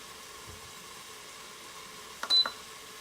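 A short electronic beep from an Instant Pot as the saute function is cancelled, a brief clear tone over faint sizzling of onions, close and alone.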